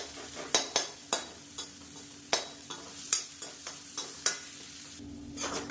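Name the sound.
garlic frying in a pan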